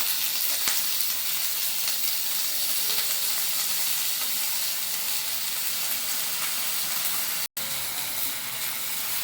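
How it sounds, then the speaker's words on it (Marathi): Thin potato slices frying in oil with green chillies and onion give a constant, dense, close sizzle and hiss with faint stirring, steady throughout apart from a momentary dropout. "बटाटा पण त्या तेलामध्ये फ्राय करून घेतलेला आहे"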